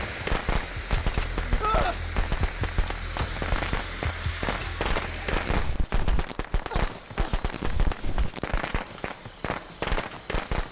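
Dense, crackling bursts of firecrackers in the video game Friday the 13th pop in rapid irregular strings, loud and continuous through most of the clip, with a low hum underneath early on.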